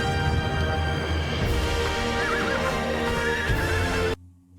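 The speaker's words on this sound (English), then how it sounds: "Horse and rider." Horse neighing and hooves clopping in a Conan Exiles Enhanced video game trailer, a loud whinny over galloping and music-like texture before an abrupt cut.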